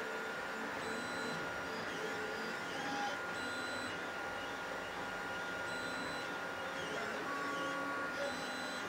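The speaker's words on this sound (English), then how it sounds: "So now we just need to print those side panels so we can mount this intermediate gear and the motor to drive it," A 3D printer runs steadily while printing side panels for a robot arm build, giving a continuous mechanical whir with faint tonal stepper-motor notes throughout, close and alone without talk.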